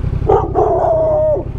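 A dog howls in a rising, wavering wail with a short yelp at the start, close and loud, heard during a dirt-track enduro ride on Tenere 700 and KTM 790 Adventure R motorcycles with engine rumble underneath.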